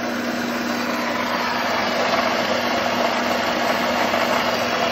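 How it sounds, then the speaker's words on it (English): A Rolux tiller converted from a gasoline engine to a battery electric motor runs at slow speed, giving a steady, continuous whine and hum with a faint vibration, holding even and fairly loud with no talk throughout. "Slow speed on the motor, and I still got 2 more notches I can go up."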